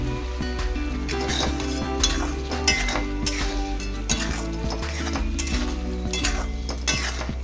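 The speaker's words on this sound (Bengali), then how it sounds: "মানে মশলাটাকে ভালো মতো ভেজে নিব" Spice masala with onion and tomato frying in a pan while a metal spoon stirs it, giving repeated scraping clinks against the pan over a soft sizzle.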